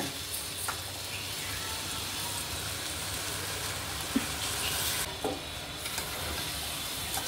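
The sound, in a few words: washed rice being sautéed in a pan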